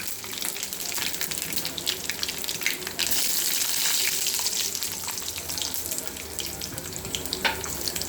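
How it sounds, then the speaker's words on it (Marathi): Peanuts go into hot oil with a mustard and cumin tempering, giving a loud, continuous hiss and sputter that surges sharply a few seconds in and then settles into steady frying. "आता त्याच्यामध्ये मी हे शेंगदाणे घालून घेणार आहे."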